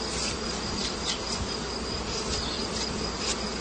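A dense swarm of honey bees hums loudly around a hive frame as they are shaken off and brushed away, a constant close buzz with no pauses.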